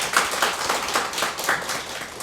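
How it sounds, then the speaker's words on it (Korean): A church congregation applauds during a Sunday worship service: a dense, steady wash of many hands clapping at moderate volume for a couple of seconds, with no voices over it. "우리 감사의 박수를 좀 보내드리겠습니다."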